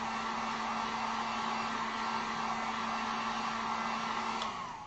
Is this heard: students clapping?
no